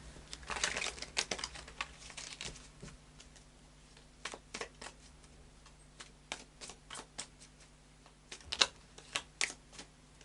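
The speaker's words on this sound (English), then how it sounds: "So we just do this shuffle of the Light Seers Tarot" Light Seer's Tarot cards are shuffled by hand, making soft, irregular riffling and tapping clicks spread across the clip. A faint steady hum sits underneath, and no one speaks.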